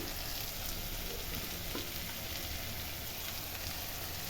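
Onions frying in a pan give off a continuous, even, hissing sizzle, close and steady with no talking.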